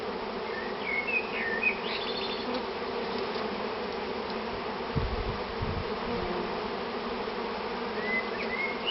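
A swarm of honeybees being collected in Loudéac, Brittany, makes a steady, dense outdoor buzz that runs the whole time, with occasional louder passes of individual bees close by and no talking.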